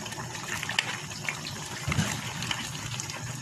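Chicken adobo with potatoes bubbling in a pot, a steady wet simmering hiss with small pops and gurgles throughout, close and continuous, with no talking.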